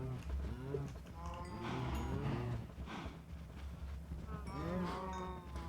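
Blocky Minecraft cows moo repeatedly in a modded world near a feeding trough, several overlapping low calls in succession, close and clear with no talking.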